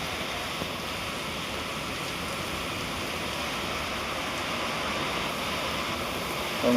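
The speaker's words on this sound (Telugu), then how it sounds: "గాలితో వస్తుంది వర్షం" Steady, dense wind-driven cyclone rain roars without pause, a broad constant wash of noise that thickens slightly near the end.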